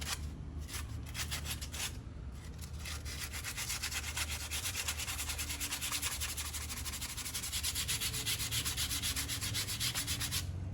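Rusty brake caliper from a 2004 Toyota Matrix being hand-sanded, with brisk back-and-forth scraping strokes that repeat in a fast, even rhythm, close up and fairly loud throughout.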